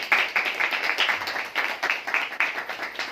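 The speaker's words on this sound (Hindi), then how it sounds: "क्या हम एक बार ऐसे व्यक्ति के लिए जिसने कि रिवोल्यूशनरी काम शुरू किया, उसके लिए ताली बजा सकते हैं?" An audience at an RCM business seminar claps for the company founder, a steady, moderately distant patter of many hands that continues without pause and with no talking.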